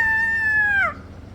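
A man imitates a rooster's crow, one sustained, drawn-out call that bends downward at the end and then cuts off. It is close and clear, with no other sounds around it.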